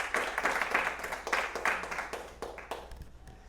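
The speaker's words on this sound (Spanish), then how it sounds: "Denle un aplauso a Él, por favor." Audience applause in a church service, a room of hands clapping in a brisk, moderately loud burst that thins out and fades toward the end.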